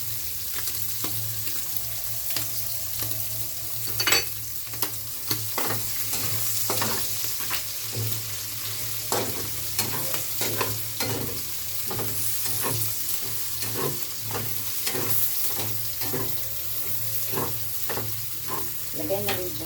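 Sliced ginger and garlic frying in a pan, a steady close sizzle broken by regular scraping stirs and clicks from a utensil against the pan.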